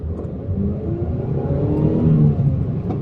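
A 2003 Ford Fiesta's engine revs up steadily as it pulls away from a stop, a continuous rising mid-pitched drone heard from inside the car.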